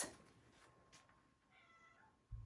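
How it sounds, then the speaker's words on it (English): A quiet cat meow, a faint drawn-out cry in the distance against low background hiss, followed by a brief louder bump at the end. "Is there a cat meowing?"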